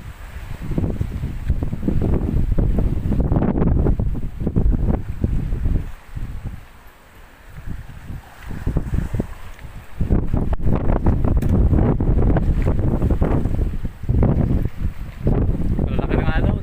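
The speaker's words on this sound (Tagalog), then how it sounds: "Malalaki ng alon." Wind buffets the microphone and waves slosh and crash around a boat at sea near an abandoned island, a loud rushing roar that dips briefly midway before surging again.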